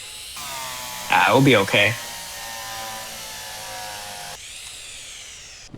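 A power drill whirs while fixing a beacon to the top of a vehicle in Derail Valley, a steady electric hum lasting several seconds and ending abruptly, with a short spoken remark partway through.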